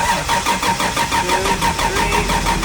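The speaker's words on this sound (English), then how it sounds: "I'm gonna try turning the car on and priming the oil pressure and see what I can get" A drift car's engine being cranked while priming oil pressure, a loud, rhythmic churning of the starter and engine that pulses steadily throughout without catching, no speech.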